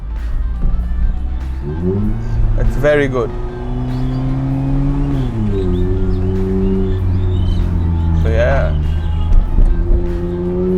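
An Abarth 124 Spider or Mazda Roadster engine held at high RPM in manual shifting mode, a loud, steady, close drone whose pitch climbs and dips through several revs, with someone talking over it.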